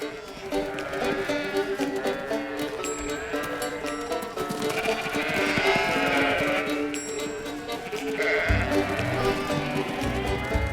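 Sheep bleat repeatedly during a traditional roundup on a British island, many overlapping calls from a flock at mid distance over a steady outdoor bed, with no speech.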